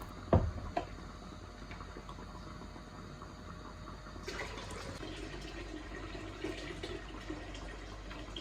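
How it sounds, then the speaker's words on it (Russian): Water poured from glass jars back into a cooking pot while making cucumber pickle brine: a steady splashing pour begins about halfway through and runs to the end, preceded by a few faint clinks. "По истечении времени воду из банок сливаю обратно в кастрюлю."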